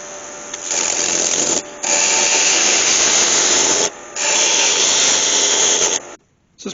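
A wood lathe roughs down a log between centres, giving a steady, close, abrasive rushing hiss from the cutting tool in long stretches that pause briefly twice before stopping.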